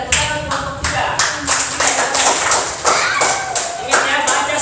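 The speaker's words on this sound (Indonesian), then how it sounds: "Tepuk tangan kelompok 3." Classroom students clap in a rhythmic, unison pattern for a group of classmates, with repeated strong beats and some thumping, while voices can be heard under the claps.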